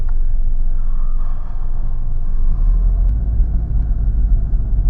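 Cabin noise inside a Nissan Magnite turbo with a CVT gearbox while driving, a steady loud low road and engine rumble with a faint whine and no talking.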